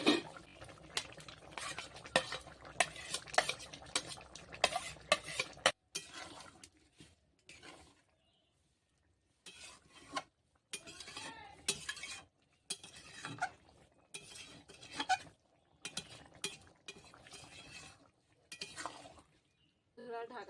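Prawns go into a pot of jackfruit curry and get stirred, with close bursts of spoon scraping and clinking against the pot, split by short quiet pauses.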